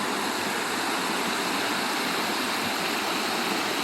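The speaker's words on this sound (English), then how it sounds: "And nice little rapids here." Little river rapids on the Black River rush steadily, a loud, dense, continuous roar of churning water heard close by with no talk over it.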